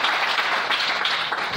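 Applause from a church congregation acclaiming the Lord, a dense steady wash of many hands clapping at once, loud and continuous throughout.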